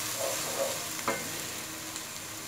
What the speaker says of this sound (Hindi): 30 से 40 सेकंड फ्राई कर लेना है लहसुन अदरक को